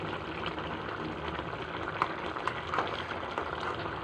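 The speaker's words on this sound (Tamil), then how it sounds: "நல்லா கொதிச்சிருச்சு" Cauliflower gravy bubbles at a steady boil in a pot: a continuous soft simmering hiss scattered with small pops and burbles, heard up close.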